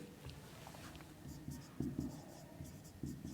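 Quiet scratching of pen or marker strokes by hand as a K-map diagram is drawn for a half subtractor lesson, short bursts of writing with brief pauses, close and faint.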